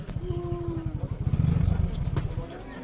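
A motorcycle engine idles close by as bikes board a river ferry on the Brahmaputra, a rapid throbbing pulse that swells briefly, with a voice talking over it.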